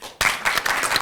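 A studio audience breaks into a short burst of applause, many hands clapping loud and close and carrying on steadily after a sharp start.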